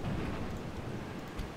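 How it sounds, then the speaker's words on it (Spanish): A thunderstorm in a video game set in the Americas rumbles low and dense with steady rain, heavy and continuous with no voices. "¿Tormenta? Vaya."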